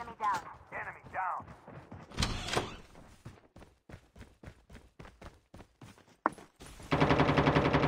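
Video game gunfire crackles in rapid bursts, with sharp repeated shots and a sustained automatic volley near the end, mixed with other game sounds and occasional voices.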